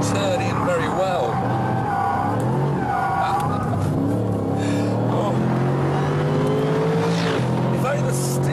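A Mercedes McLaren SLR supercar is driven hard around a track, its engine droning and shifting pitch as the power comes off and on into corners, with tyres scrubbing, heard continuously beneath someone talking throughout.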